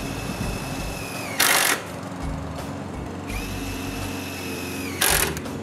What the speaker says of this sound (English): we install the gable cap on the J-trim and screw it in place.